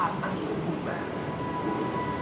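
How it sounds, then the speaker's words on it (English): A BTS Skytrain rumbles into a Bangkok station with a steady low roar and brief high squeals of wheels, while faint voices murmur in the background. "Here comes the train."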